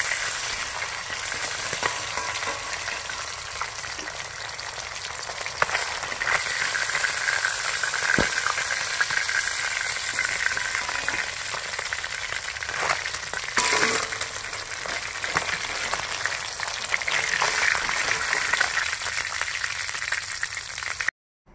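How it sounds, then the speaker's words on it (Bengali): Parshe fish fry in oil in a pan, a loud steady sizzle and crackle up close with occasional turning scrapes, then stopping abruptly at the end. "এভাবে ভালো করে লাল করে ভাজবেন মাছগুলো।"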